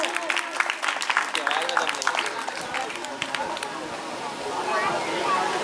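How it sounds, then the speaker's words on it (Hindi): Crowd at an Independence Day celebration programme claps, starting with loud scattered claps that thin into softer, uneven clapping and crowd murmur, with voices heard in the mix. "प्लीज तालियां बजती रहे, तालियां बजती रहिए, तालियां बजनी चाहिए दोस्तों।"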